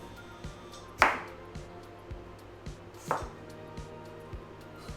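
Asparagus gets chopped with a knife on a board, two crisp, well-spaced cuts over a soft steady background hum and faint ticking, close and unhurried.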